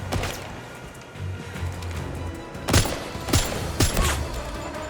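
Gunfire in an online shooter video game cracks in a quick series of sharp shots over constant busy background noise. The shots are moderately loud and land in an irregular rhythm.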